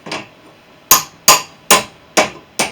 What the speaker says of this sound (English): I can just tap this with a hammer whilst it's under heat, and it should tighten up lovely.